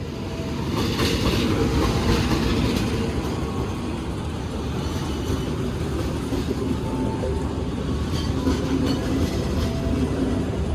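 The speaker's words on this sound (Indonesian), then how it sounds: "ini ada kereta yang masuk" A passenger train rumbles steadily into a station at low speed, with a continuous heavy drone, rhythmic wheel clatter and occasional metallic squeals, fairly close.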